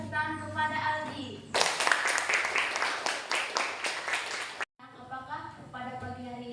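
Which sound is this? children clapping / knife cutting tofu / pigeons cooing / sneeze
children clapping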